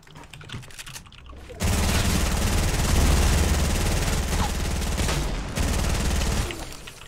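Sustained rapid gunfire in Fortnite Battle Royale at Tilted Towers, a loud dense burst of shots running for several seconds, pausing briefly, then resuming before cutting off.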